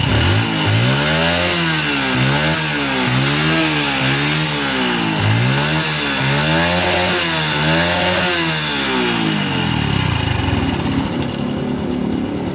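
A Honda Wave 110 motorcycle engine is revved repeatedly during a test, rising and falling in regular throttle blips over a loud, continuous idle close by.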